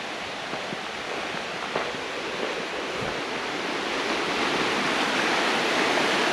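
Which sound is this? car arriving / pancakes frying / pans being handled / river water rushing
river water rushing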